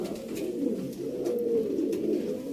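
Pigeons coo in a loft in Sialkot, a continuous low, rolling murmur of several birds close by, with no other sounds.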